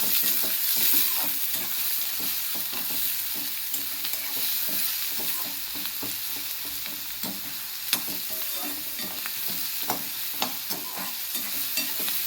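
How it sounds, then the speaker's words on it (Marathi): Onion frying in a pan while being stirred, a dense unbroken sizzle layered with constant rhythmic spatula scraping and occasional sharp clinks, close and fairly loud throughout. "कांदा व्यवस्थित भाजून घ्यायचा आहे, जास्त लाल होईपर्यंत भाजायचा नाही"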